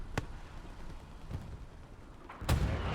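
Artillery fire in a video game: three separate booming shots at irregular intervals, the last the loudest and closest, over a low rumbling background.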